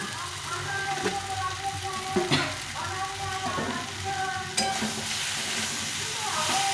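Soybean curry sautéing with bay leaf in a pan, a steady sizzle and frying hiss with occasional scraping stirs and pops, moderately close and fairly quiet, with no talk.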